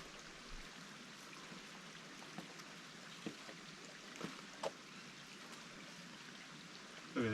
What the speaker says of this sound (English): Creek running through the middle.